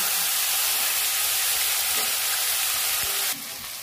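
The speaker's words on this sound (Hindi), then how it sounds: "अभी हमारा भुजिया हल्का हल्का भुजा चुका है।" Potato bhujiya with pointed gourd frying in a pan, a dense steady sizzle and crackle of oil heard up close without pause, easing slightly in loudness near the end.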